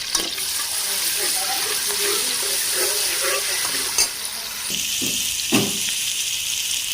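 Garlic and ginger paste fries in oil in a wok with a moderate, even sizzle. Stirring clanks and scrapes come in a few distinct knocks near the end.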